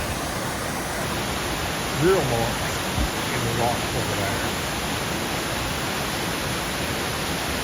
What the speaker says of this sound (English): for a man-made waterfall, this is absolutely stunning